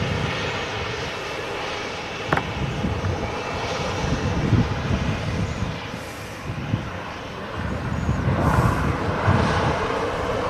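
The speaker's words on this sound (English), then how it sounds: "It's Ryanair 737-800 just arriving" A Ryanair Boeing 737-800 airliner arriving at Manchester Airport, its engines a steady broadband roar at moderate distance that swells slightly toward the end, with no voices.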